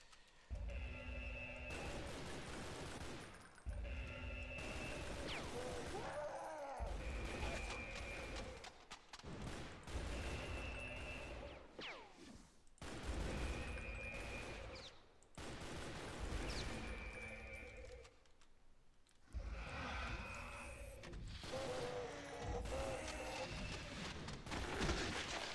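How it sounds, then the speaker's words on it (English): Dual-wielded assault rifles firing in the shooter game Brutal Doom, repeated dense bursts of automatic gunfire with brief gaps between them, loud and close, mixed with game effects across a long stretch. "Yeah, you can dual wield your assault rifles."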